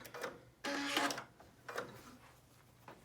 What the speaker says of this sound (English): I took the pin out right at the last second and I sewed to the end.